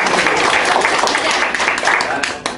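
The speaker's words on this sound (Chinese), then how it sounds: "来，掌声鼓励。" Steady applause from a crowd, dense and loud throughout, with voices mixed into the clapping.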